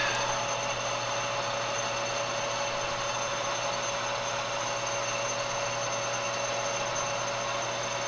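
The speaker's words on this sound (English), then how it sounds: "Let's get a center drill on this side." A center drill cuts into the second side of a metal adapter on a machine tool, with a steady, unbroken whir and hum of the running spindle held at even loudness throughout, with no voices.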